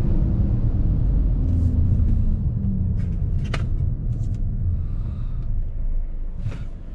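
Tata Safari diesel automatic slows as the driver lifts off and brakes, its low engine rumble and road noise steadily falling away, with a few light clicks near the end.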